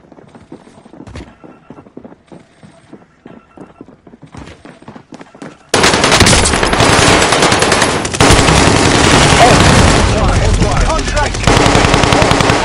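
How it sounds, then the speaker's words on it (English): Rapid automatic gunfire from a military shooter video game erupts loudly after a quieter opening of scattered distant shots, then continues as dense, sustained bursts with no talking. "Taking fire."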